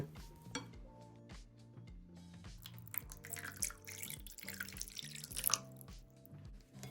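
Cooking prawn masala in a bowl with a spoon, with light clinks of the spoon against the dish and soft drips and splashes as a little water goes in, while background music plays under it.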